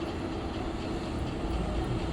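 A train running late rolls on with a dense, steady rumble and rattle, loud and continuous with no voices.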